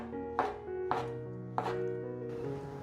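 A knife slices through a fresh shiitake mushroom onto a board, three crisp, close chops spaced roughly half a second apart over a quiet background, with a faint ringing tone behind them.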